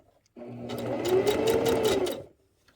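Sewing machine running a single burst of about two seconds stitching a pocket seam on a ribbon skirt, a close rapid whirring hum that starts and stops abruptly.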